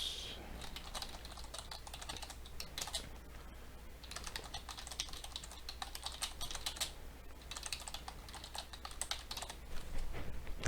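Someone types notes on a computer keyboard, a dense, steady clatter of close keystrokes in bursts with brief pauses, with no talking.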